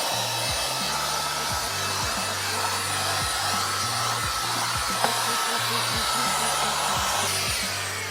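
A Jimmy HW10 washing vacuum cleaner works over a car interior, giving a loud, steady motor roar with a rhythmic low pulsing as the nozzle is pushed back and forth, continuous throughout.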